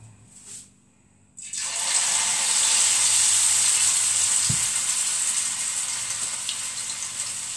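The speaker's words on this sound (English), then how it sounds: "So let's begin to fry." Potatoes drop into hot oil after a quiet start, setting off a loud, continuous sizzle that holds steady close up, with a brief clunk partway through.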